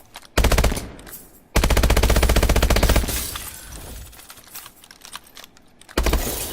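Rapid automatic weapon fire at target training in Call of Duty Advanced Warfare, loud close bursts of fast repeating shots separated by brief pauses, with a final short burst at the end.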